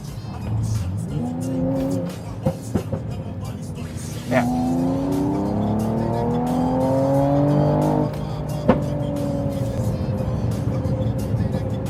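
A Mercedes-Benz CLS53 AMG engine in sport mode rumbles and rises in pitch as it accelerates, with sharp pops and crackles from the exhaust, heard from inside with talking over it.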